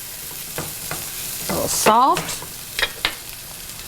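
Potatoes and vegetables frying and being stirred in a pan, a steady close sizzle with scraping stir strokes, with brief soft speech partway through.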